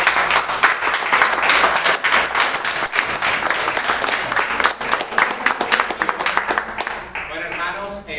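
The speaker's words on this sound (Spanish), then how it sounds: "Un aplauso para el hermano." An audience claps to welcome Brother Nelson Enríquez at a Caballeros del Santísimo gathering; the applause is dense, steady and loud for about seven seconds, then thins out and fades near the end.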